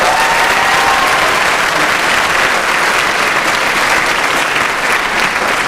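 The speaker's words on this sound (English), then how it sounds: "A big round of applause for these students." A graduation audience at Edgren High School applauds graduating students, sustained dense clapping from a large crowd that stays steady and loud from start to finish.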